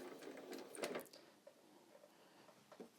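A home sewing machine stitches toward the next corner of fabric, a soft mechanical whirring with a few clicks and taps, close but quiet, and nobody speaking.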